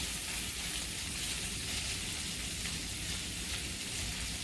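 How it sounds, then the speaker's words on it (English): Chopped celery sautéing in a hot pan, a steady dense sizzle with crackling texture that holds evenly throughout, close and moderately loud with no talking. "let's get the celery cooked down just a little bit first"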